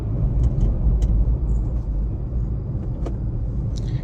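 Manual car driving along a road in fourth gear, a steady low engine and road rumble from inside the cabin, with a few faint clicks and knocks over the continuous drone.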